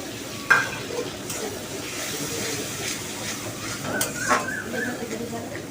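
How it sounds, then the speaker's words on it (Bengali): Spice masala hisses in hot oil with tomato in a pan for a Bengali prawn-stuffed pointed gourd dish, a steady close sizzle with occasional scraping stirs and a few sharper clinks. "আমি তেলের মধ্যে টমেটোটার মধ্যে মশলাটা দিয়ে দিলাম"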